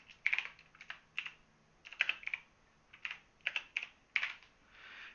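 Clicks of computer keyboard keys in irregular bursts, several quick keystrokes at a time with short pauses between, fairly close and clear with no talking.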